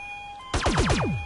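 A police car siren wails in the MTA San Andreas multiplayer game. It begins abruptly as a loud, close, descending sweep that repeats several times over about a second, with no speech.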